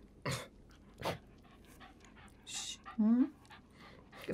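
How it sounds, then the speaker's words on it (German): A small mixed-breed female dog pants in short bursts and gives a brief rising whimper, close by, with intermittent background noise between the breaths. "Gefällt Ihnen diese Promenadenmischung?"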